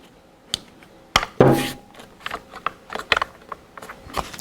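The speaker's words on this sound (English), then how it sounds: "Test the function of the bolt by operating it forward and back." The bolt of a Daisy Model 1903 drill rifle is worked forward and back, giving sharp metallic clacks and a brief sliding scrape up close, followed by scattered lighter clicks, with no talking.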